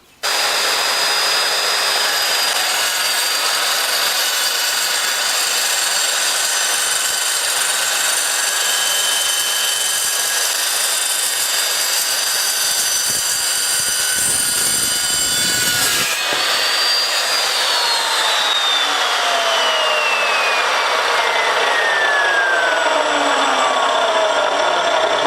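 An Evolution S355CPSL chop saw cuts through metal with a loud, sustained high-pitched grinding screech for about sixteen seconds, then the blade winds down with a falling whine.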